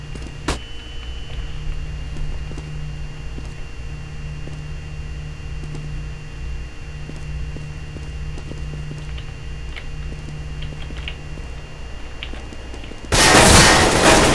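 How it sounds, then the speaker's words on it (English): A flashbang grenade goes off in Counter-Strike: Global Offensive, a sudden loud broadband burst arriving late after a long stretch of quiet game hum and faint clicks, then ringing on to the end. "Throwing flashbang"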